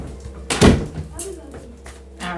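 Indoors, one sharp thump of a door closing stands out near the start, followed by softer rattles, with speech nearby.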